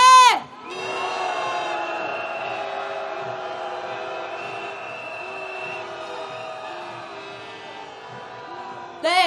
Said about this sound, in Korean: 동아일보가 들을 수 있게 크게 야유 한번 보내보겠습니다